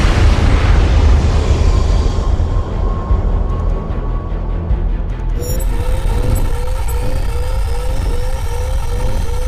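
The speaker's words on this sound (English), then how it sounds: "That explosion was no accident." Explosion and roaring jet aircraft in the combat flight game Tom Clancy's H.A.W.X. 2, a loud sustained rumble fading after a few seconds, followed by beeping cockpit alert tones and a repeating game soundtrack.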